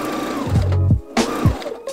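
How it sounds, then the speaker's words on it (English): A sewing machine stitches in garment sleeves, heard as two short, close bursts of fast mechanical whirring, each starting and stopping abruptly. "So yeah, still sewing in the sleeves here."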